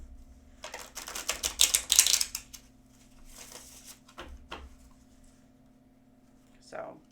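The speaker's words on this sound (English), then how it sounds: "I love my twin flame cards. So let's get these all shuffled up." Twin flame oracle cards shuffled by hand in rapid papery bursts, loudest early on and then in a few shorter flurries, over a steady low hum, with a voice speaking at points.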